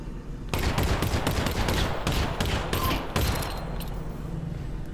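Rapid hip-fired gunfire in Half-Life: Alyx, a dense burst of repeated loud shots lasting several seconds after a short quiet start, then fading to a lower hum.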